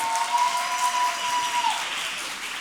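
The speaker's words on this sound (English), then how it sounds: "can we take a second and give the event producer for tonight a round of applause?" Steady audience applause and clapping at an evening female founders pitch event, a dense sustained patter filling the room throughout, with no voices standing out.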